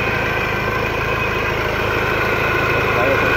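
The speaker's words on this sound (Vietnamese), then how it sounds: "Anh em thấy tiếng động cơ nổ rất là êm không?" A white 2012 Ford Ranger pickup with a 2.2 engine and manual gearbox idles steadily and smoothly close by, a constant low rumble under a man's speech.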